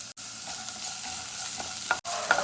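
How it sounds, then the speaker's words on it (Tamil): Onions sautéing in oil for soup give a close, steady sizzle, with a couple of sharp spoon clatters against the pan as they are stirred. "வெங்காயமும் நல்லா பச்சை வாசம் போகிற அளவுக்கு நல்லா வதக்கிக்கலாம்."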